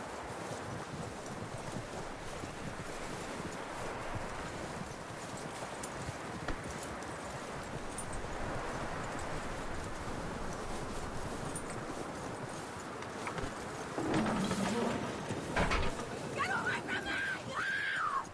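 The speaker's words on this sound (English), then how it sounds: "That looks like a decent horse." Steady clip-clop of horse hooves in Red Dead Redemption 2 throughout over a windy outdoor ambience, with a brief louder burst of activity near the end.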